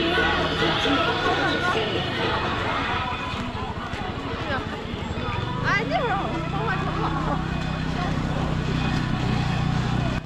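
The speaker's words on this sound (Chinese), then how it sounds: "这是真的马拉雪橇。" A real horse-drawn sleigh running at a snow and ice park in Jiamusi, with hoof clops and a brief whinny amid bustling crowd chatter and music carrying over the scene.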